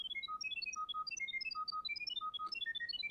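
Rapid electronic beeps from an Unreal Engine sound cue with randomized pitch, short tones jumping between low and high notes in a quick irregular stream, faint and alone.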